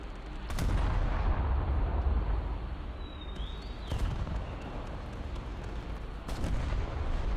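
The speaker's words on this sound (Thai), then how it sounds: "ยิงเครื่องบินทิ้งระเบิดเข้ามาครับ" Warship anti-aircraft guns fire at incoming bombers in a video game, heavy booming shots at intervals over a low rumbling battle bed, with a faint whistling streak in between.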